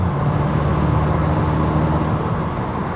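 Tuned diesel Ford Aspire remapped to 160HP, heard from inside as a loud, continuous engine drone with a steady hum under heavy road and cabin noise while it drives under power.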